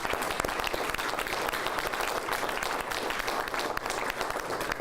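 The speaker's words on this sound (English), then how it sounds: "Let's give them a round of applause." A crowd at an Albuquerque city news conference gives a round of applause, a dense, steady patter of many hands clapping at moderate distance and low level throughout.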